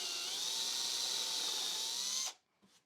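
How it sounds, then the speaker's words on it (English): A drill drives a hex drive head nut into MDF with a steady, high whine, loud and close, for about two seconds before it cuts off. A faint knock follows. "I'm going to install this hex drive head nut to allow me to install that bolt that I just showed you on the track."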